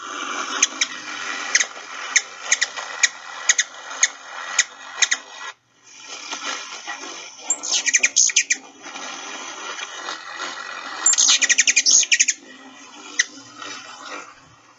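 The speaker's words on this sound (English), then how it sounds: "So they have a chattery type call and a humming of the wings." A ruby-throated hummingbird's rapid chattery calls over a steady humming of its wings, with sharp clicks and bursts of twittering repeating throughout, close and fairly loud.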